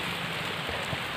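Steady rain falls on a muddy rice paddy embankment path in the rainy season at Kubu Nan IV, a dense, even hiss of drops with no voices.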